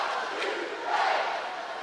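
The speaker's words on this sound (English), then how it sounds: "The Coventry fans are loud as well." Coventry Blaze fans at an ice hockey game in a rink create a loud, steady wash of crowd cheering and chanting with a brief swell midway through.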